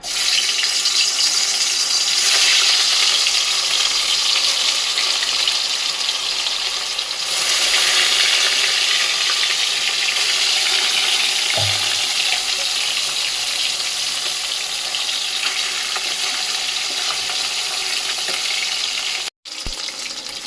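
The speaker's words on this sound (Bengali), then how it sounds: "এবারে ভেটকি মাছগুলো মা তেলে দিয়ে দিচ্ছে" Pieces of bhetki fish frying in hot oil in a wok at home, a loud, continuous hiss and crackle of sizzling that carries on steadily with a brief clatter near the end.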